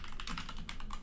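Rapid typing on a computer keyboard at a PC command prompt, a quick run of close, clicky keystrokes in a steady flurry over low background hum.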